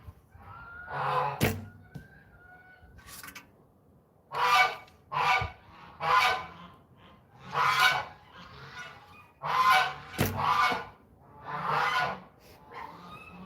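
Geese honking at dusk in South Dakota, a series of about a dozen loud nasal honks in uneven succession, fairly close, with a couple of sharp knocks or thumps mixed in.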